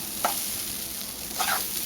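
Hot cooked rice stirred into fried egg in a pan over a low flame, a steady sizzle broken by two scraping strokes of the spoon, close and with no talking.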